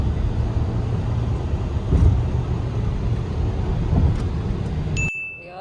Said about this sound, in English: We are in cruise control on the Atal Setu. Very comfortable, nice drive.